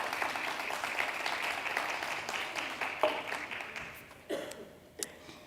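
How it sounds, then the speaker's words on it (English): Audience applause at a women's convention, a steady round of clapping that thins out and tapers off near the end, with a few last scattered claps. "If we can give Gugu a hand of applause."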